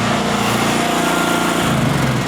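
An ONROLL portable roll forming machine runs while shearing a board-and-batten metal panel, a loud, dense mechanical grinding hum with a slight change near the end of the short burst.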